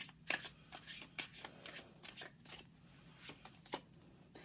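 Tarot cards being shuffled close up, a quiet series of soft riffling and slapping bursts at an irregular rhythm, with no talk over them.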